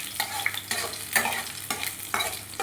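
Dekkhi saag greens frying in a pan, a close, steady sizzle broken by several sharp scraping stirs at irregular intervals, no voices.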